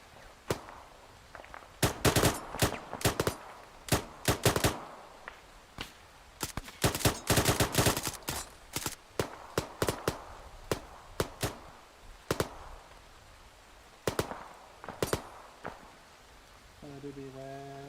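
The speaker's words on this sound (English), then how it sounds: "Taking shots from the north." Dense bursts of Arma 3 video game gunfire, rapid cracks and volleys clustered in irregular waves, with a voice talking in the background.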